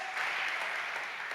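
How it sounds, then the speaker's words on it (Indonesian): A church congregation claps together in a steady, dense burst of applause that fills the whole moment without letup. "Tepuk tangan bagi Allah kita."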